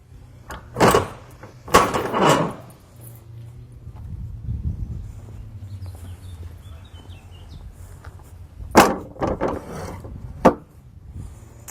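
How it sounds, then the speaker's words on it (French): A semi-trailer's second rear door is unlatched and swung open, giving sharp wooden-metal clunks and latch rattles early on, a low steady hum through the middle, then further knocks and a final bang near the end, with no talk. "J'ouvre la deuxième porte."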